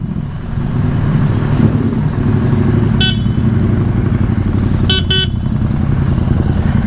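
A BMW GS1300 motorcycle's horn gives one short honk and then two quick toots, sounding over the steady rumble of the bike's engine at close range.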